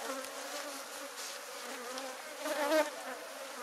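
Honey bees buzz steadily around hive frames during honey harvest work, a dense close droning hum with no talking, rising slightly toward the end.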